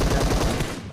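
Gunfire from a PUBG match, with an AWM sniper rifle shot among the reports: a loud, dense burst of rapid shots lasting under a second, close up and alone with no talk.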